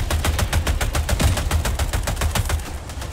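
Rapid automatic gunfire in the video game Helldivers 2, dense bursts of repeated shots in a fast steady rhythm, loud and close, with no talking.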